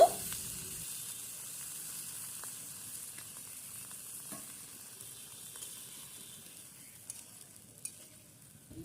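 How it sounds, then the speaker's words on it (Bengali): A little water added to a pan of fish frying with cauliflower and eggplant, where the food is sticking to the bottom, brings a soft, constant sizzle with a few faint clicks from stirring. "তলায় একটু একটু লেগে যাচ্ছে বন্ধুরা, তাই দিলাম জল, একদম সামান্য।"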